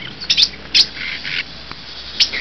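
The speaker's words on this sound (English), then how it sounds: "female cardinal right there." A female northern cardinal gives several short, high, bright chirps outdoors near a pine tree, scattered irregularly over a quiet background.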